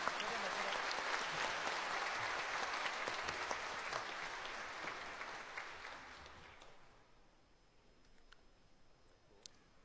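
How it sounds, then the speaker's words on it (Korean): Sustained audience applause at a national Liberation Day ceremony in a concert hall, a broad wash of many hands clapping that gradually thins and fades out, leaving a quiet room with a few scattered claps. "다시 한번 뜨거운 박수 부탁드리겠습니다."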